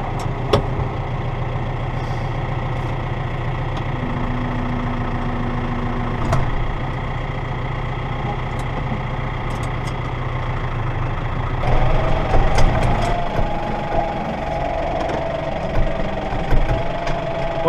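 A diesel tractor engine, unused since snow ploughing, idles steadily and roughly at close range, rising in pitch and intensity partway through as it revs up.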